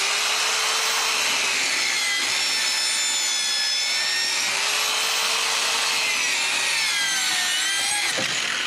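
A DualTools CS450 saw plunge-cuts a sink opening into a countertop with a loud, constant high-pitched whine and grinding rasp, the motor pitch sagging and rising slightly as the blade moves backward and forward.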